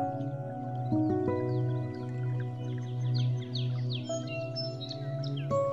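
Calls of migratory birds at Magadi lake, a winter wetland, come as scattered chirps and short whistles over a steady low hum, moderately distant and continuous.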